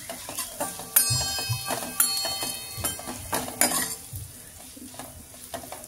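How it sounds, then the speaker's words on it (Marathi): Vermicelli roasts in ghee in a steel kadhai over a low flame, a soft sizzle underlying repeated clinks and scrapes of a spatula stirring against the metal pan. "आता मस्त ह्या शेवया लालसर होईपर्यंत भाजून घ्यायच्या कढईमध्ये"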